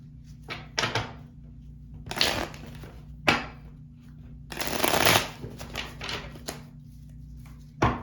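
A pocket-size tarot deck is shuffled by hand in several quick riffling bursts with brief pauses and soft card taps between them, close and crisp.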